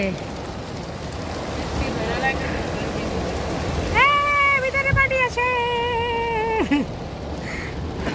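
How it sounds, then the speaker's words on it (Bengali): Heavy rain makes a steady, dense hiss throughout, heard from inside a car in Sylhet, while a loud wavering tonal wail rises over it for a few seconds near the middle. "বৃষ্টি ঝুম বৃষ্টি আর আমরা গাড়ির মধ্যে অপেক্ষা করছি"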